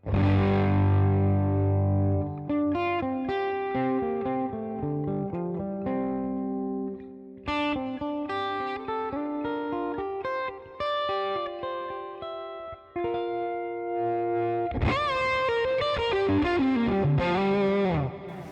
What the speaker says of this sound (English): Kind of hot-rodded tweed tones.